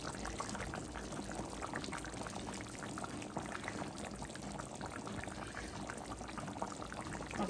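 Shrimp frying in a pan for a Bengali taro, eggplant and cucumber curry makes a dense, steady sizzle and crackle that stays loud and even throughout, with no talking.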